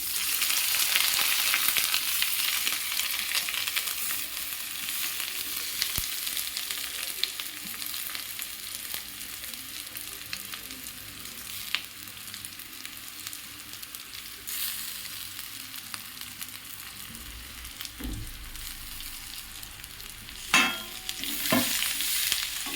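Marinated ingredients hit hot oil in a pan for a Basanti pulao, frying with a steady, close sizzle that runs throughout, broken by occasional scrapes and clatters of stirring, especially near the end.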